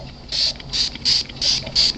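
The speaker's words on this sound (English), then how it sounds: "spray that one" Five quick hissing spritzes of shimmer spray from a spray bottle onto paper flowers, evenly spaced and close by, with no voices.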